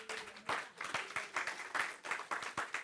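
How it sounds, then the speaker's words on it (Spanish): A church congregation claps along in a steady, rhythmic beat, with regular sharp hand strikes repeating about twice per second throughout, moderately loud and fairly close. "dale un aplauso al Señor"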